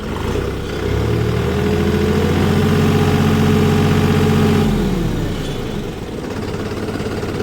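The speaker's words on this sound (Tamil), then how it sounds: "இன்ஜின் நல்லா ஸ்மூத்தாக இருக்குது" A New Holland 5510 Excel 4WD diesel tractor engine runs nearby with a deep, steady chugging hum that swells to a louder drone mid-way, then settles back down.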